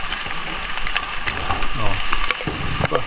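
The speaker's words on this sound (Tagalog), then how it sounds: "Grabe yung baha ng ulan." Heavy rain pours over an ampalaya farm plot during flooding, a dense, close, continuous hiss of drops on surfaces with faint voices mixed in underneath.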